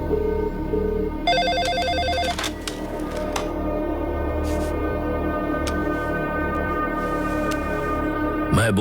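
A telephone rings with repeated electronic trills that stand out over a low background hum, followed by quieter clicks and handling noises.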